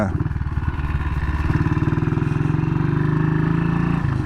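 A 1959 BSA 250 four-stroke single-cylinder motorcycle engine runs close by with a steady, even thumping beat that picks up slightly partway through, alone without talk.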